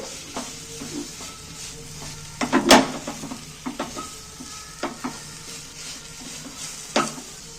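Carrot sweet with raisins being stirred and mashed into a paste in a pan over the flame, soft scraping strokes with light sizzling, near and fairly quiet, with one louder scrape midway.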